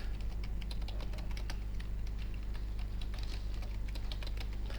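Keys on a computer keyboard being pressed for a shortcut sequence, a dense run of close, crisp clicks and taps with a few heavier strokes, over a steady low hum and no talking.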